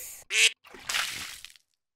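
A duck gives a short nasal quack, then a second longer, rougher quack follows after a brief pause, both close and clear against silence.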